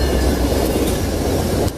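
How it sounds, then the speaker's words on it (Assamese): A train passes close by with a loud, steady rumble and rattle of wagons, cutting off abruptly near the end; a distinct horn blast is not clearly evident. "সেই সময়তে শুনা গ'ল 12 বজাৰ ট্ৰেইনখনৰ হৰ্ণৰ মাত।"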